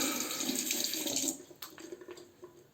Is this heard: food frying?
no